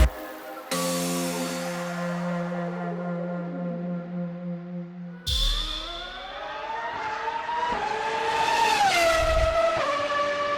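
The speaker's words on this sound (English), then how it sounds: "Racing cars without racing drivers." Autonomous race car of the Abu Dhabi Autonomous Racing League on track, its engine whining in sustained tones that shift pitch as it accelerates and slows, loud and close with a sharp rise midway.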